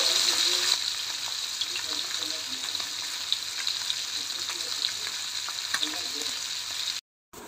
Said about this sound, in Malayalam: അപ്പം ഞാൻ മീനൊക്കെ ഒന്ന് വറുത്തെടുത്തിട്ടുണ്ട്.